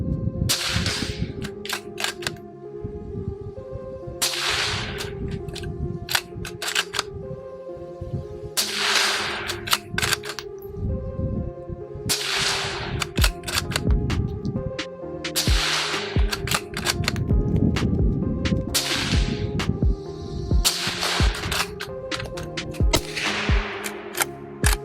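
Ruger Generation II Predator rifle in .223 Rem firing repeatedly, sharp loud cracks coming in quick irregular bursts over a constant roar of outdoor range noise.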